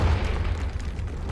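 A Confringo fire spell explosion in Hogwarts Legacy lands as a deep, loud boom at the start, followed by a rumbling tail that fades over the next second.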